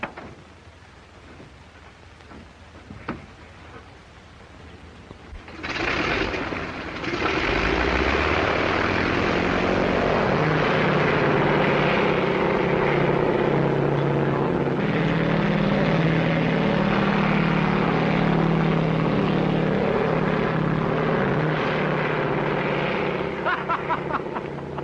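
A propeller plane's engine starts and roars steadily as the aircraft takes off, loud and sustained after a quieter opening in an old 1937 drama.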